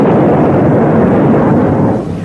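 Aboard the battleship USS Iowa at sea in the Atlantic, its 16-inch guns fire with a loud, sustained roaring boom that fills the air and then tapers slightly, heard alone without talk.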